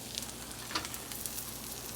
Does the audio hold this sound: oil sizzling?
yes